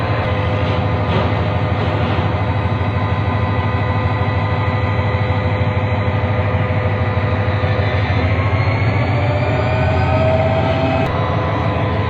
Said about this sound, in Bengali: ট্রেনটি কিন্তু সচল করার জন্য ড্রাইভার অনেক চেষ্টা করতেছে, কিন্তু ট্রেনটি সচল হচ্ছে না